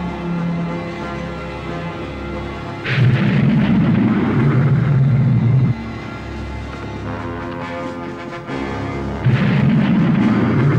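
Spaceship guns fire in a 1983 science fiction film, heavy booming bursts that come and go in long sustained stretches over a constant rumbling engine drone, loud and dense with no talking.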